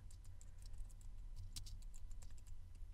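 Keys clatter on a computer keyboard in a home recording booth, a steady run of soft, quick clicks heard up close over a low hum.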